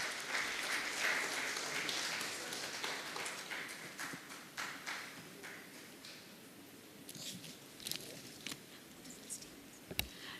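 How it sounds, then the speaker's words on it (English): Audience applause for a keynote speaker at the AI for Viksit Bharat Summit 2026 starts as a dense roar, thins into scattered claps over about ten seconds, and ends on one sharp knock. "A huge round of applause for Mr. Mehta."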